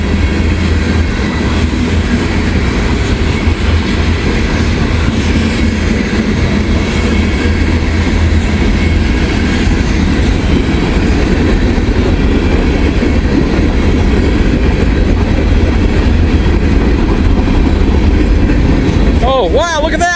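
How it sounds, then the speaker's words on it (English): A long freight train with gondola cars, some loaded with railroad ties, rolls steadily past up close with a constant loud rumble and wheel clatter, and a brief squeal near the end. "Like I said, it's a pretty long train here."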